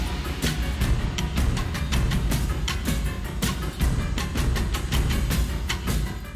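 Original soundtrack version of a Monogatari trilogy track, a dense, continuous piece of music with steady rhythmic accents, loud and full throughout with no speech.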